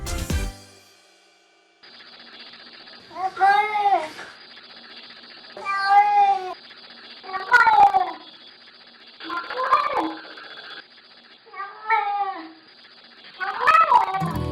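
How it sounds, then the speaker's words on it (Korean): A cat in a bathroom meows repeatedly in long, drawn-out, wavering calls, six or so in a row, close and clear, with short pauses between them. "이 말소리의 주인공은 바로 고양이?"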